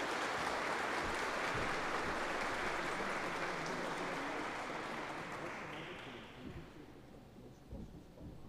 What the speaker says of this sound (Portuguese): uma salva de palmas para os agraciados